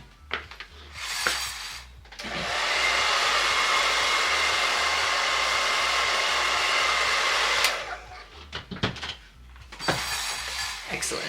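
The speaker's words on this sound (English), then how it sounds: "I'm gonna hit that with a hairdryer." A hair dryer blows on a drag wig during styling, a loud steady roaring whoosh lasting several seconds, framed by brief handling clatter before and after.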